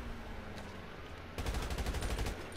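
A machine gun fires in a GTA 5 match, a rapid rattling burst of gunfire breaking in partway through after a quieter stretch, dense and steady until the end.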